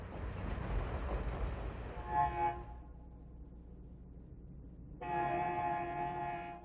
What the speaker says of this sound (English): A pair of EMD E7s with train number 31, the Twilight Limited, is westbound out of Dearborn.